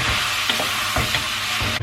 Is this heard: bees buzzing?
no